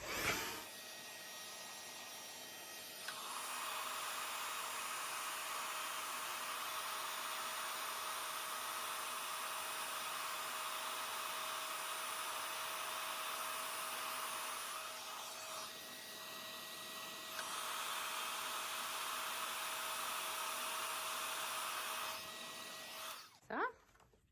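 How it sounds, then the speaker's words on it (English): A heat gun melts embossing powder on a colored card, blowing a steady, loud airy whir for most of the span, with a brief dip partway through before it cuts off at the end. "having glitter or embossing powder out and then using the heat gun"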